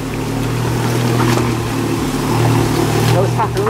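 An off-road jeep engine roars steadily as the vehicle climbs over large rocks, loud and close throughout, with people talking over the engine.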